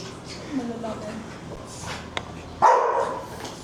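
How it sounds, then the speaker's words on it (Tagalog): Fluffy dogs, some of them young, at a shrine in Dazaifu, Fukuoka, Japan, give one loud sharp bark near the end, heard outdoors among faint background chatter and ambient noise. "Fluffy dogs. Kaya pala fluffy."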